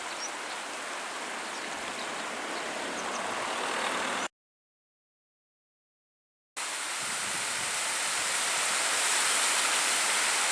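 Waterfall on the Bystrzyca river at Stara Bystrzyca rushes with a dense, steady hiss of falling water, broken by a couple of seconds of complete silence midway.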